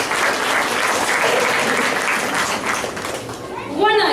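Parents and audience applaud loudly for a children's performance at a school show in Bangalore. The clapping is dense and steady, eases slightly near the end, and a voice begins speaking over its tail.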